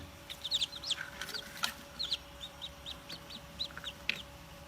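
Newly hatched chicks inside an egg incubator, a busy run of high, quick peeping calls repeating in short bursts over a low steady machine hum.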